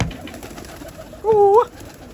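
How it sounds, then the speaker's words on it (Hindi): A single pigeon coo, a short soft warbling call near the end, heard over faint outdoor background noise as pigeons are brought out for release. "ये कबूतर निकाल रहे हैं, अभी उड़ेंगे"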